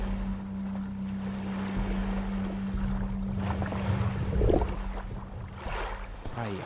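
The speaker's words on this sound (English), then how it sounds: "Let's just keep paddling." A raft is paddled across open water in the survival game Stranded Deep, with soft splashing strokes over a steady wind and water wash, mostly on its own apart from a faint voice.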